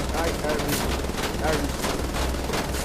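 Sustained weapon fire in the shooter Wolfenstein: The Old Blood, a dense rapid stream of shots at steady volume with a few sharper bursts standing out, while a voice talks faintly underneath.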